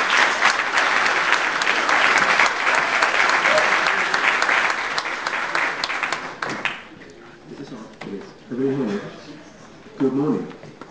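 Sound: audience applause for speaker Malcolm Levene

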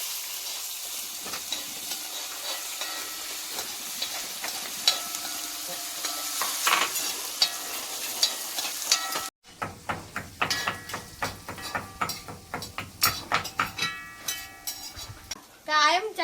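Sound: stirring crushed green chili, shallots and garlic in pan

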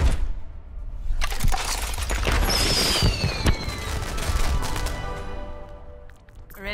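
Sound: fireworks from a video game lootbox opening

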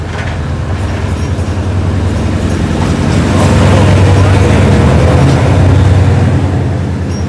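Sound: Hitachi 4501 locomotive hauling train 255

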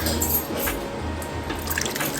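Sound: water poured into cooking pot

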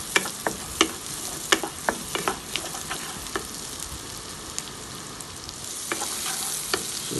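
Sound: carrots sautéing with onion and garlic on high flame

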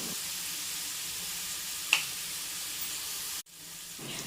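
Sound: star fruit pieces frying and stirred in oil for pickle

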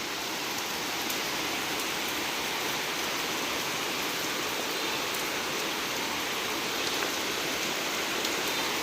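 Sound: rain falling

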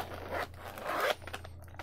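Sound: opening zipper on toy packaging

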